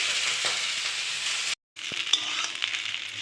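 Ivy gourd and potato pieces frying together in a pan, a moderate steady sizzle with a few light clinks and stirring scrapes, interrupted by a brief silence.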